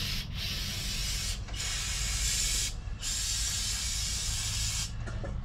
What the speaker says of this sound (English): I'm just spraying the carburetor off